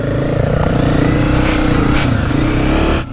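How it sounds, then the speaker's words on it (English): Honda CRF250F 4-stroke trail bike engine running steadily at high revs, loud and close, with a continuous buzzing drone that cuts off abruptly at the end. "They're just little 250 4-stroke trail bikes"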